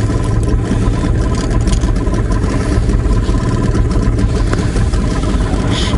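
An outboard boat motor running steadily on the Kama River during a fishing trip, a loud continuous engine drone close by with an even rumble throughout and no talking.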